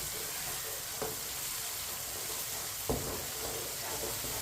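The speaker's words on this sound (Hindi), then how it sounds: "टमाटर को भी 2-3 मिनट के लिए पका लेते हैं। इसे ऐसे ही चम्मच चलाते हुए।" Tomatoes cook in a hot pan with a steady, close sizzle while a spoon stirs them, scraping the bottom with two distinct clinks. No one speaks.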